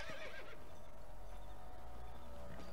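A horse in Red Dead Redemption gives a short, shrill whinny at the start, followed by quieter hoof clip-clops and game ambience.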